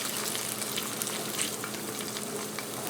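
A fried egg sizzles steadily in a pan just after being flipped, a continuous close crackle and hiss with faint spatters throughout.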